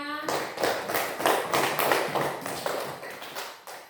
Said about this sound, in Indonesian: Tepuk tangan untuk Kirana.